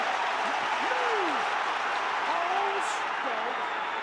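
Stadium crowd at a 2010 rugby league match between St Helens and Huddersfield Giants applauding steadily, a broad continuous wash of clapping and cheering with a commentator talking over it throughout.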